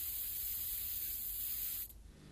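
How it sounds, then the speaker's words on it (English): A cheap can of spray paint hisses in one steady, close burst aimed at a camera, cutting off sharply near the end and leaving a quieter background. "it was 3 hours before they attempted their next move, which was accomplished quite simply with a cheap can of spray paint."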